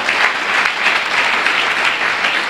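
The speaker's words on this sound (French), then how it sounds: "Est-ce qu'on peut acclamer la parole de Dieu?" A church congregation at a Sunday family worship service breaks into sustained applause for the word of God, a dense, steady clapping that fills the room throughout with no pauses.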